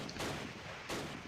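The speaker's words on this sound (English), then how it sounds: "Somebody just tried to shoot us." Gunfire in the WWII strategy game Close Combat: Last Stand Arnhem, two dull, broad blasts about a second apart, distant-sounding and muffled, over a constant noisy battle backdrop.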